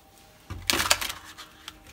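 A brief, crisp riffle of tarot cards being shuffled, a papery flutter lasting about a second, with a couple of soft taps after.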